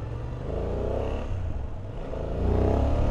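BMW F800 GS motorcycle engine on a test ride, a steady close-up drone that swells louder toward the end as the bike pulls harder, with no talk over it.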